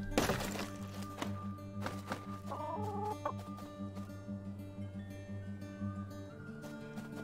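Chicken clucking in the Western open-world survival game Don't Die in the West, with a few short, bright cluck bursts over a steady hum of game music and ambience.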